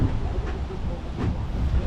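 A tram travels through the Chicago Botanic Garden, giving a continuous low rumbling motor and wheel drone with soft hissing, steady and fairly close.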